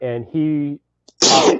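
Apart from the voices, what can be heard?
sneeze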